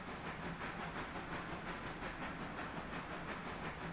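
A running train locomotive rumbles steadily and close, with a continuous hiss, a low engine drone and faint rhythmic clatter throughout.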